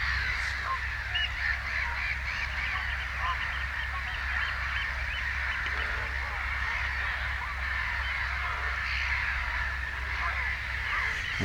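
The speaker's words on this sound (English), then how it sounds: "There's an absolute riot going on with those birds." A dense racket of birds before dawn at 4 a.m., honking and cawing continuously at a distance beside a waterway, with a low steady hum underneath.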